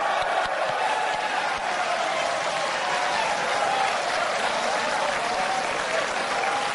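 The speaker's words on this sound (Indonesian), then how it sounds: "Tepuk tangan" Sustained audience applause fills a hall during a 2014 Indonesian presidential candidates' debate, a steady dense wash of clapping at even loudness throughout, with crowd murmur and a faint voice running underneath.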